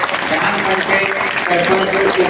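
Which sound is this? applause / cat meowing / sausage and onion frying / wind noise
applause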